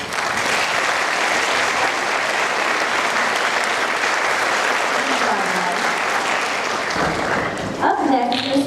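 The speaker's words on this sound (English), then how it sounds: "Let's go ahead once again and give them a round of applause." Loud, dense audience applause fills a school winter band concert hall, sustained for several seconds before thinning near the end as a voice begins speaking over the last claps.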